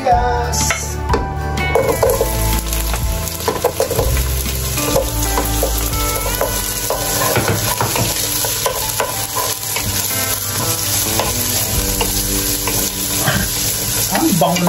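Onions sautéing in hot oil for pork dinuguan: a loud, steady sizzle runs throughout, with stirring and scraping against the pan.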